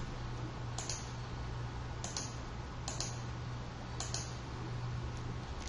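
Sparse keyboard clicks, likely the Enter key being pressed on a computer keyboard during CAD drafting, land as about five isolated sharp taps over a faint steady hum.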